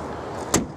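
Tailgate of a Nissan Juke shutting with a single solid thump about halfway through, alone against a steady quiet background.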